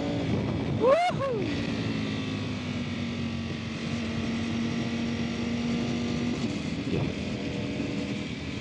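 A Ducati Panigale V4R superbike accelerates with a sharp rising engine rev, then settles into a steady drone under heavy wind noise, with a brief voice near the start.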